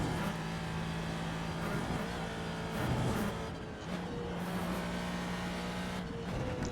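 A Ford GT2 race car in the iRacing video game at VIR, its engine droning loudly and steadily with a brief dip and rise in revs during a downshift.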